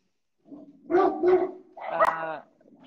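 Dogs barking at close range in a few loud, quick bursts, two sharp barks followed by a longer, rougher one.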